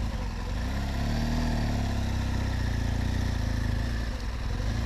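A BMW R1200GS Adventure motorcycle rides a tight off-road single-track trail, its engine a continuous close, loud drone that swells slightly as it revs, with no voices.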